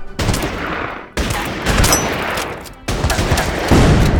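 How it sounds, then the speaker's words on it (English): Units in the Order of Battle: Burma Road strategy game open fire on a police unit: loud, dense, rattling gunfire that comes in three sustained bursts, with brief drops between them. "We're gonna go ahead and open fire."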